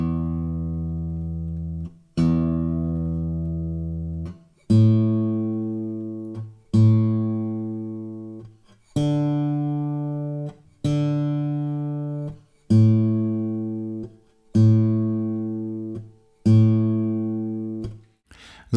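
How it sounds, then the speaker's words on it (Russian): Bass strings six, five and four of an acoustic guitar, plucked one at a time with the thumb in a slow even pattern, each low note ringing out and fading before the next, close and alone. "Это будет сквозное звукоизвлечение большим пальцем на басовых струнах."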